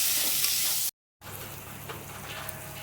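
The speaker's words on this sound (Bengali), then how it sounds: "ভালো করে নেড়ে নেবো, কষে নেবো দেখো মশলাটাকে।" Powdered chilli and garam masala frying in hot oil in a pan, a bright continuous sizzle with stirring, cut by a short silent gap before the sizzle resumes slightly softer.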